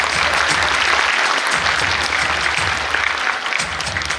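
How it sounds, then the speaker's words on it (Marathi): Audience at a school annual function of the Camp Education Society in Nigdi clapping together; dense, continuous applause from a large crowd, loud and close, sustained throughout without speech. "सर्वांनी टाळ्यांचा गजर करायचा"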